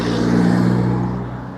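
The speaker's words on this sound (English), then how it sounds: "sorry about the traffic noise." A car passes close by on a street in Blackpool on a Friday night: a loud, broad engine rumble peaks early and then fades slowly as the vehicle moves away.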